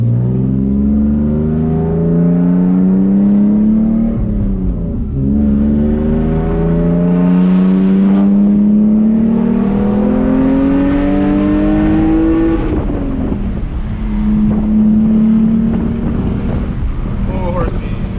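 A BMW E46 car driving, its engine note rising and falling through several gear changes with a steady drone, with wind noise and someone talking over it.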